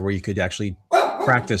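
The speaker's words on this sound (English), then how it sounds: "Sorry, that's my dog" A house dog barks in the background during an online talk, with loud, close barks mixed into the second half under a person speaking steadily.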